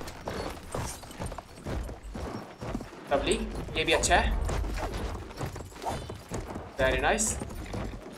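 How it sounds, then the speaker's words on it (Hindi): Horse hooves clattering in a quick galloping rhythm in the video game Battlefield 1, close and steady under game noise and distant gunfire bursts, with someone talking over it. "बस इस घोड़े को यूज करते हुए निकल सकते हैं यहाँ से।"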